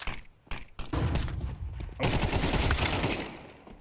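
A Counter-Strike match as players take the A site, with a burst of gunfire and a blast under a rattling, mechanical clatter, loud and close, with dense bursts from about a second onward and no talk.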